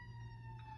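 A siren wails steadily through the short stretch, fairly quiet and distant, with a low engine-like hum underneath and no talking.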